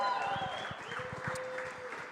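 A studio audience at a Green Bay Packers live show claps in a fairly faint, irregular patter of hand claps that fades over about two seconds.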